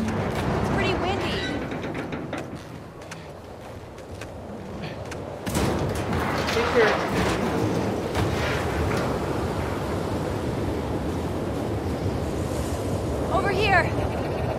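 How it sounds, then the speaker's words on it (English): Wind and crashing waves from the video game The Last of Us Part II, a loud, steady roar of gusts and surf with shifting swells, as people talk over it. "Careful when you get up here. It's pretty windy."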